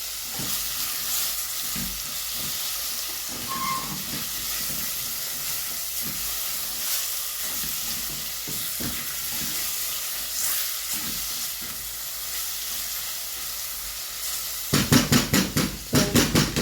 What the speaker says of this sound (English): I opted to fry the beef than boil.